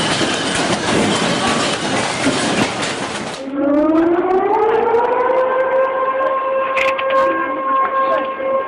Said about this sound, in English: The earthquake drove people onto the streets, only to hear the sirens warning of the impending tsunami.